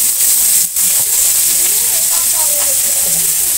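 Cut potato and eggplant hiss and sizzle loudly and continuously in a frying pan with onions, with a brief dip near the start and faint background clatter.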